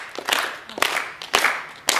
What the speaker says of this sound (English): So when I lower my hand, you have to start just clapping ahead